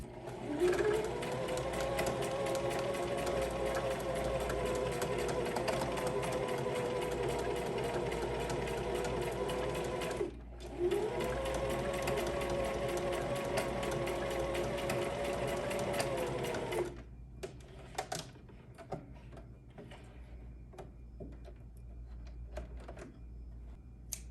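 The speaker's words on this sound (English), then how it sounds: "I'm just gonna start from the bottom, sewing on my bundles." A sewing machine stitches hair bundles onto a wig cap, running in two long steady bursts of fast mechanical whirring with a short pause between them, then falling to quiet handling clicks.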